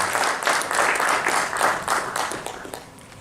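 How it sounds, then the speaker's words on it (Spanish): Sustained applause from an audience at a railway history talk, steady clapping that swells and fades slightly over a few seconds, with no talking. "Le brindamos un aplauso"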